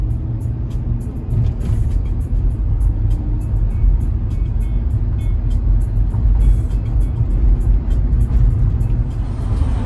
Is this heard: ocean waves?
no